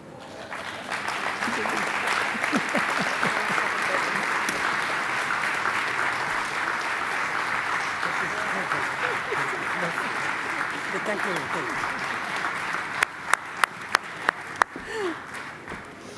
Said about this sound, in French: je vais demander à nouveau à l'Assemblée présente de vous applaudir